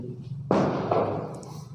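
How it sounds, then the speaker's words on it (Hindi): Firecrackers bursting at a nearby wedding: a sudden sharp crackling burst followed by a second pop and lingering rumble, heard from a distance over steady indoor room hum. "चलिए आसपास में शादी हो रहा है, जो पटाखे फूट रहे हैं"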